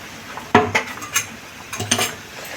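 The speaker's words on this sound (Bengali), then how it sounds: "বাটিটা ধুয়ে দিলাম একটু।" A bowl is rinsed at a kitchen sink, giving two clusters of bright ceramic and metal clinks and knocks about a second apart, close and fairly loud over soft running water.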